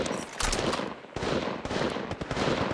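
Rapid automatic gunfire from the mobile shooter Apex Legends Mobile, dense loud bursts running almost continuously with a brief gap near the middle, no voices.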